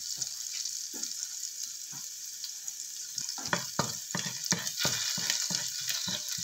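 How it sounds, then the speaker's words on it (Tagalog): Minced garlic fries in oil in a pan for shrimp with oyster sauce, giving a soft continuous sizzle with scraping stir strokes that grow busier toward the end, close and fairly quiet. "Add minced garlic."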